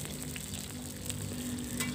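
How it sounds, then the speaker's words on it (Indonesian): Chili peppers frying in hot oil for sambal bawang, a steady soft sizzle and crackle close by, with no talk. "jika minyaknya sudah panas langsung aja dimasukkan cabenya ini saya goreng bertahap"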